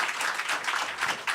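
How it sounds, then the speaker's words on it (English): Audience applause at a youth-focused talk event, a short steady burst of many hands clapping at moderate level, filling the whole moment without talk over it. "Give them an applause,"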